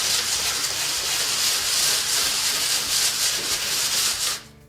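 First coat of a DIY concrete countertop being sanded by hand in circular motions, a loud, continuous close rubbing hiss that stops abruptly at the end.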